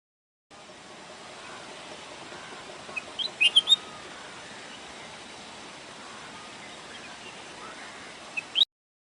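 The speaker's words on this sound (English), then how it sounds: "bulbul" Bulbul song: a few short, bright chirps and whistles near the middle and end, fairly faint against a steady hiss of outdoor background noise.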